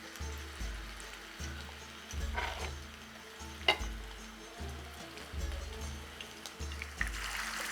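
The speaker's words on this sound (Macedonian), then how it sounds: "ќе правам топченца и ќе ги фрлам во" Balls of dough for merak tava drop into hot frying oil, giving a soft, continuous sizzle with faint bubbling and occasional light splashes, quiet and close.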